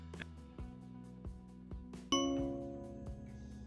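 A Reolink Doorbell Battery chime plays through an Alexa speaker as a single bright ding ringing out and decaying, after a few soft knocks and faint background sounds in a quiet room.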